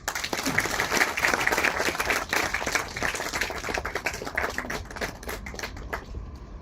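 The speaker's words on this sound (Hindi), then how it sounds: "पर आप सभी के समक्ष स्थान लेती हुई भूमि सोनी, और साथ में आप सभी की तालियां भी।" Audience applause at an award ceremony at the Rajasthan International Centre in Jaipur, dense, close clapping that starts strong, keeps a crisp texture, then thins out and fades toward the end.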